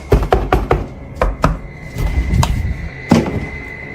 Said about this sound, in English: Upon investigating the source of the noise and finding nothing, the knocking suddenly shifted to the other side of the room.